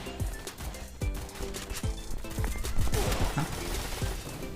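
Rapid bursts of gunfire ring out in the Free Fire mobile shooting game, sharp repeated shots and impacts layered over game background sound, fairly busy but moderately quiet.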